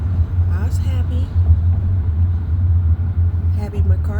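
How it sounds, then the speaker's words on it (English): A car engine idles with a steady low rumble after starting up, joined by faint, muffled voices and passing noise at the start and end. "Happy my car started up."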